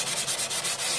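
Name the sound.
lightly sanding piano wood with fine grit paper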